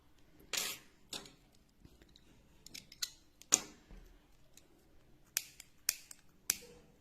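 Scissors snipping beaded crochet thread for a pencil-edge oya trim, giving a few sharp, separate clicks and snips spread out with quiet gaps between them, close and fairly faint.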